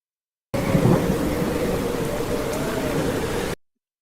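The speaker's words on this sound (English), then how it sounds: "Now we have rain." An added rain sound effect plays as a dense, steady hiss of falling rain that switches on abruptly, holds evenly for about three seconds, then cuts off.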